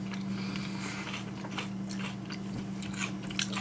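Close, crisp crunching of food being chewed, a rapid series of bites and crackles over a low steady hum, with no talking.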